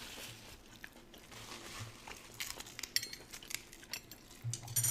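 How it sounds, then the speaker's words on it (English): Crunchy KFC spicy fried chicken bitten and chewed up close, with scattered crisp crackles and soft munching that build toward the end, plus faint clinks of cutlery or dishes. "So crunchy."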